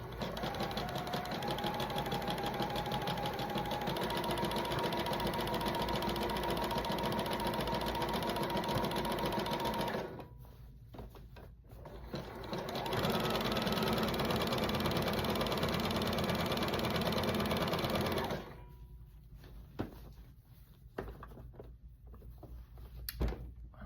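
A sewing machine zigzag-stitches stretchy fabric for underwear, sewing in two long, loud, steady whirring bursts with a quieter pause between them and clicks and handling noises after.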